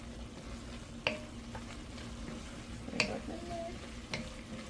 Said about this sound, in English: I'm going to stir this up in there.